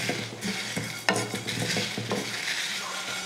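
Cumin seeds and dried red chillies dry-roast in a pan while a spatula stirs them in repeated gritty scrapes over a steady crackling hiss, near and moderately loud.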